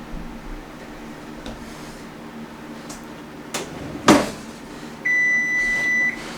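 A kitchen timer beeps during cheesecake baking, one sustained electronic tone ringing out near the end after a few soft clicks and a sharp knock, fairly close and loud.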